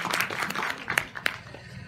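Theater audience at a Polish film screening applauding the director of Czuwaj, a brief burst of scattered, uneven clapping with a few sharper nearby claps standing out.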